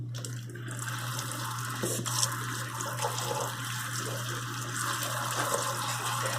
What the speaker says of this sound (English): Always make sure you wash your veggies really good before you start with any project.